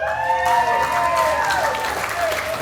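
Audience at a hockey hall of fame ceremony applauding and cheering, a loud sustained wash of clapping with whoops and a few whistles rising above it throughout.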